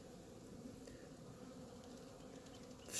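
Honey bees buzz in a steady, faint, continuous drone from an opened hive of a colony with slow spring growth, with no speech over it.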